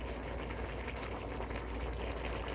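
Brown stew chicken bubbles and simmers in a pot while being stirred, a steady close liquid burble with soft scraping texture and no talk.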